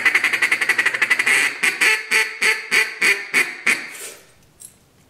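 A KES Waterfowl duck call sounding a feed call: a fast run of clipped chattering notes slowing into about ten separate, louder quacking bursts, close and alone before trailing off.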